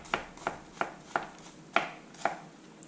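A pocket knife slices through an onion in six crisp, evenly spaced cuts, each a sharp close crunch against a quiet background.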